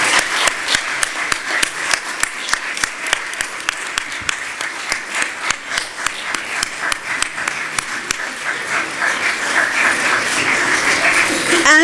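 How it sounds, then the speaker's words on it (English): Audience applause at the ICUH 2017 closing ceremony: sustained, loud clapping from a crowd with sharp individual claps standing out throughout, steady for the whole stretch. "Applause."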